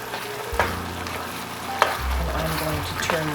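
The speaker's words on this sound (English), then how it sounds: "Turn this down and let it continue to simmer for a few minutes." Salisbury steak mixture seasoned with garlic powder simmering low in a pan, with a few sharp spoon scrapes and stirs over a steady soft bubbling.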